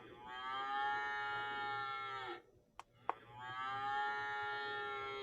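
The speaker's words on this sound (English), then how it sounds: "and the cow goes like." A cow moos twice, two long, loud, drawn-out lowing calls close by with a brief pause between them and no talking over them.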